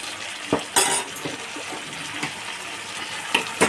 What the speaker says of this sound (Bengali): সেদ্ধ করে রাখা মটরটা এর মধ্যে দিয়ে দিচ্ছি